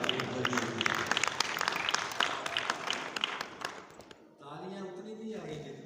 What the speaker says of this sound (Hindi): तालियां उतनी नहीं आई जितनी हबीबी हैया।